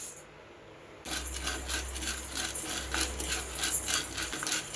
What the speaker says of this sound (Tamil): இப்போ அடுத்து எடுத்து வச்சுருக்க பொரிகடலையை லைட்டாக வறுத்து எடுத்துக்க போகிறோம்